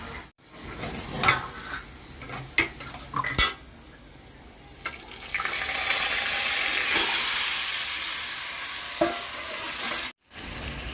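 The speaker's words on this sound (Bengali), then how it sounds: "এখন আমি পেঁয়াজ ভাজছি" Onions frying in a pan with oil ahead of adding meat, a steady broadband sizzle swelling loud in the middle, broken by sharp scrapes and clinks of a spoon stirring against the pan, up close with no talking.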